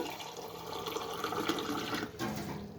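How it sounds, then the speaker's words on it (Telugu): Half a glass of water is poured into jaggery in a pot for making syrup, a steady soft gush of liquid that briefly dips near the end before continuing. "దీంతో అర గ్లాసు నీళ్లు పోస్తున్నాను బెల్లం కూడా కరగాలి కదా"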